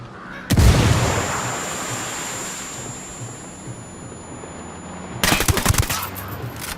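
A frag grenade explodes in the Ghost Recon Wildlands video game: a sharp, loud boom that decays into a rumbling tail, then bursts of rapid gunfire follow near the end.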